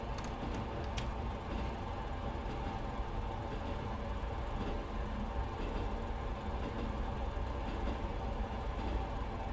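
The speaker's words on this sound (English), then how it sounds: "And I'll just keep the train going at this nice steady speed." Diesel railcar in the Diesel Railcar Simulator game running at a steady low throttle, a continuous mechanical engine drone and rolling rumble holding even throughout with no talk.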